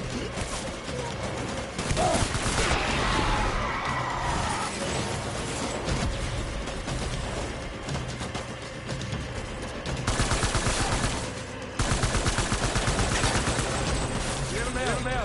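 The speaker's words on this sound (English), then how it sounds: "Open fire." Soldiers' gunfire in the video game Death Stranding, with dense bursts of automatic and machine-gun fire, sharp impact cracks and mechanical clatter, loud and sustained throughout with surges of shooting, mixed with voices and game sounds.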